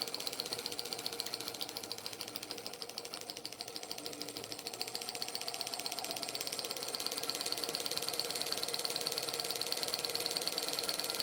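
A small Stirling engine motor on a model helicopter runs steadily with a fast, even mechanical ticking and clatter as a gear catches against the blade tower, close and continuous throughout.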